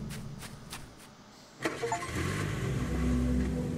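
A car engine in the Welcome To Kowloon video game cranks and catches, then settles into a steady rumble as the vehicle pulls away, loud and close with no talking.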